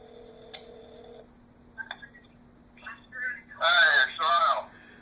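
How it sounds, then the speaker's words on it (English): A telephone call is placed: a few short dial beeps and clicks come first, then a ringing tone repeats, clear and close against an otherwise quiet line. "So let's get Bill McCoy on the phone"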